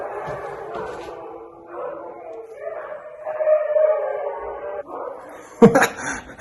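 Several husky sled dogs howl together in a drawn-out, wavering chorus, with sharper yips and barks breaking in near the end.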